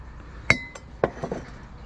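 Pieces of vintage confetti art glass clink as they are handled, giving two sharp ringing taps and several softer knocks over a quiet background, with no voices.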